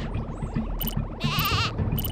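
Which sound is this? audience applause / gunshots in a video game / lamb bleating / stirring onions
lamb bleating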